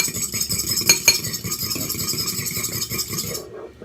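Fork whisking raw eggs in a bowl, a steady fast clatter of metal tapping against the dish, close and fairly loud throughout before stopping abruptly near the end.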